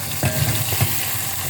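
Dried turkey berries (sundakkai) are sautéed in a pan, giving a short burst of close sizzling with a couple of stirring scrapes, no talking.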